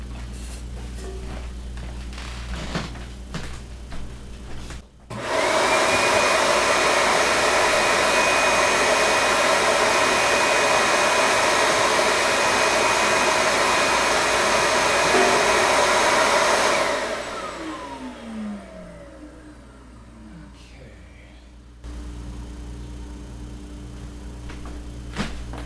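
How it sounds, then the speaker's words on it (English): A vacuum cleaner switches on and runs with a loud, steady roar for about twelve seconds before winding down, with quieter handling noises before and after. "the vacuum cleaner didn't get this as clean as I'd liked"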